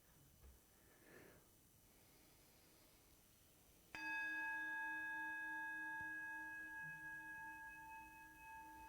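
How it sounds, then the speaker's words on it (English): A single bell is struck once after a quiet stretch with faint breathing, then rings out with a long, clear, steady resonance that slowly fades. "as we hear the resonance of the bell"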